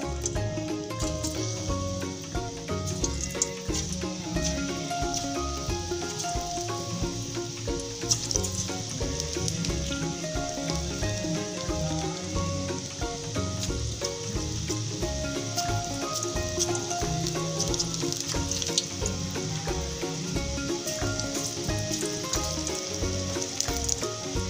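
Peanuts deep-frying in oil for a namkeen snack over a medium gas flame, giving a dense, steady crackling sizzle that runs unbroken and close for the whole stretch, with no talking.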